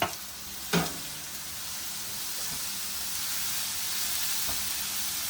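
Salt, garam masala, red chilli and turmeric hit a hot pan for a dhaba-style egg masala. A couple of knocks sound, then a loud, even, hissing sizzle follows.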